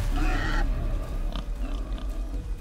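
A pig grunts and snorts in the God of War video game, a loud, close squeal-like burst at the start followed by softer intermittent grunts over steady ambient game background.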